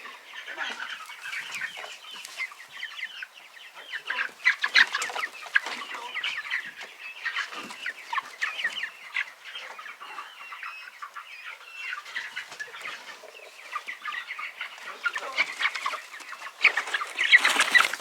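A flock of young chicks let out into their run for the first time clucks and peeps in a continuous busy chatter, close and fairly loud, with no talking.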